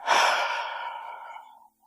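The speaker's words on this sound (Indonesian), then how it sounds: "tarik nafas melalui hidung dan hembuskan perlahan melalui mulut dengan mengeluarkan suara" A single slow, audible exhale through the mouth after a nasal inhale, a close breathy whoosh that starts strong and tapers off over nearly two seconds.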